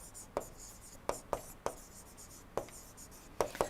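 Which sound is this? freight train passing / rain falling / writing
writing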